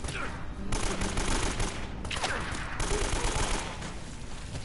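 Rapid gunfire in the video game Uncharted: Drake's Fortune, with dense overlapping shots in a sustained fusillade and a few short gaps, loud and continuous throughout.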